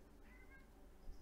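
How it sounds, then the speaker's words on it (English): A cat meows faintly in the background, a couple of short drawn-out cries at low level under a quiet room. "Sounds like a cat in heat."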